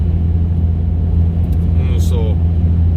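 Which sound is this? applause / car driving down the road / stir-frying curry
car driving down the road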